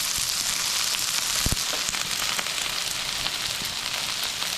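Onion frying and caramelizing in a pan, a steady dense sizzle with scattered small crackles and pops, close and even throughout, no talk.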